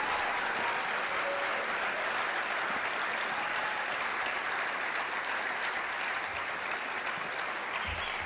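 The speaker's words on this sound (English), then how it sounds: "Can I have a round of applause for the students?" Audience at a school finale ceremony giving a round of applause for the students, dense sustained clapping from a crowd, steady and fairly close for several seconds.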